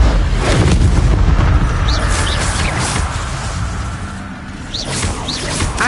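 A fire spell cast again and again in a fantasy video game produces a loud, continuous roaring blast of flame. Booming, rushing whooshes fill the whole stretch, with a few faint whistling swishes riding on top.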